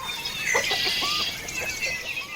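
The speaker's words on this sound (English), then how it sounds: "one of their organic pasture-raised hens as she heads out for her day in the pasture" Several organic pasture-raised hens cluck and murmur nearby at once, a busy overlapping chatter of short calls with a constant background hum.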